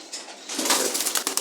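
A pigeon coos in low throaty bursts, close by, with some rustling and light background noise.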